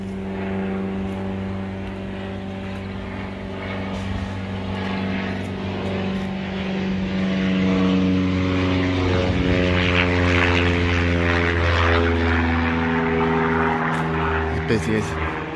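Light propeller aircraft from a flying school at Barton Airport passes overhead, a steady droning engine that grows louder and shifts pitch as it flies by, with people talking outdoors over it.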